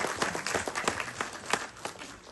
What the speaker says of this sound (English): you do deserve a round of applause for that